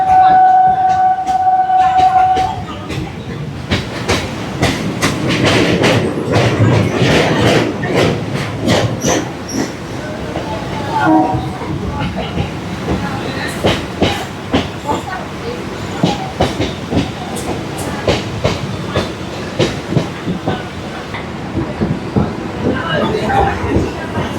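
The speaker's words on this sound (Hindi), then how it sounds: "कोलकाता चक्र रेल के पथ पर हम अभी भी अग्रसर हैं।" A Kolkata Circular Rail train runs along the track near Park Circus station, giving loud rhythmic clickety-clack wheel beats and rattling carriages, with a brief whistle-like tone at the start and faint voices in the background.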